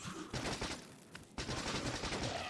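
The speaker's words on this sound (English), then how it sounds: "Gunfire." Bursts of gunfire in the video game Factorio: Space Age while clearing bitter worm nests, a dense rapid rattle of shots running almost the whole time with a brief lull near the middle before it resumes at full loudness.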